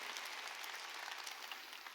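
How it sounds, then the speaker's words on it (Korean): A church congregation at a Sunday thanksgiving service breaks into applause, a soft, steady patter of many hands heard at a distance and fairly faint. "박수."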